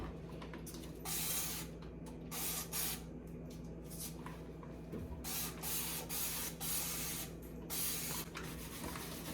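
A spray bottle of cleaner is pumped repeatedly onto a dirty stove, short hissing bursts in an uneven rhythm over a steady low hum.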